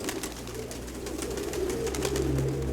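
Domestic pigeons coo softly at close range in a loft, with a low steady murmur of several birds and faint rustling, no talking.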